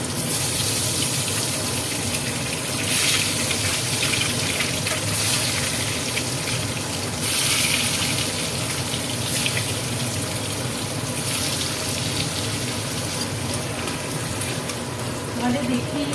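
An egg fries in hot oil in a pan, a continuous close crackling sizzle with a watery hiss that swells slightly at moments and carries on steadily throughout.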